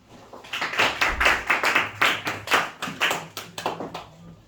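Congregation at a church service clapping in steady rhythmic unison, a dense, loud wash of many hands beating together in even pulses without voices.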